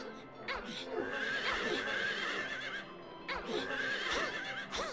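Horses in Silent Hill 3 neigh and whinny in loud, wavering cries, two bursts separated by a brief pause, with snorting and hoof-like clatter beneath.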